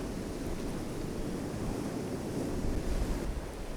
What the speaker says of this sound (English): You've got all the water slowly making its way back to the sea